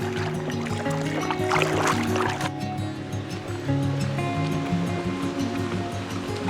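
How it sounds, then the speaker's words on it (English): Choppy open water with waves slapping a small boat, broadband wash and splashes steady throughout, one louder surge near the middle, close and fairly loud with no talk over it. "Water's getting choppy, Mama. It is. Big wave coming right at me."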